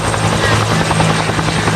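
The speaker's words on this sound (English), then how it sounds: "the dust-off helicopter did serve for about 3 or 4 years as a medevac helicopter" A dust-off medevac helicopter at a Vietnam reenactment at Fort Jennings, its loud, close rotor chop and engine roar thudding steadily throughout with no pauses.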